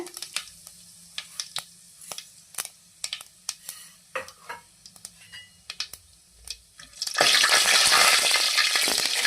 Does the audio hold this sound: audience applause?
no